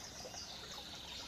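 A babbling brook in a forest gives a steady, soft trickle of flowing water that runs unbroken and faint throughout.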